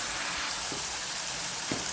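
Masala seasoned with salt sizzles steadily in a frying pan for a Kerala home lunch, with two brief soft scrapes of stirring against the continuous hiss.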